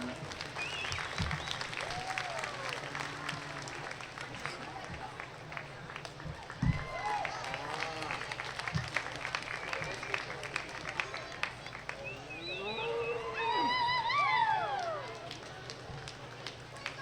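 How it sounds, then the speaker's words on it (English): An audience applauds at a market steer show in an arena; the clapping is fairly faint and continuous, with a crowd murmuring and brief chirpy sounds nearby. "Let's give them a big round of applause."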